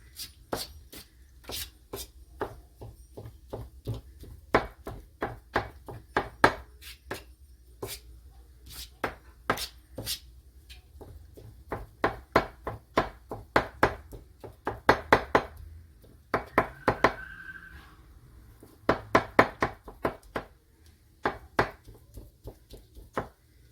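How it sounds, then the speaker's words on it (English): A knife chopping oysters on a cutting board for oyster stuffing, quick bursts of crisp, close knocks in uneven runs with brief pauses between, fairly quiet overall. "That should be chopped good enough."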